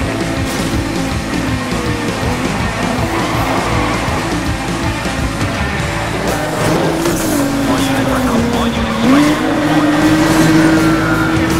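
Police cruisers chasing racing cars, including a Lexus LFA, in Need for Speed Most Wanted 2012, loud continuous engine roar with rising revs and brief tire squeal, with radio-style voices over it.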